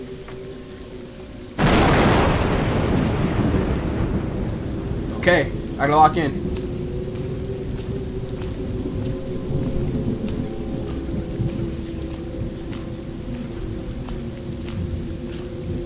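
Rain and thunder in the video game Road 96: a sudden loud thunderclap rolls in, then steady rain keeps falling close by while someone talks over it.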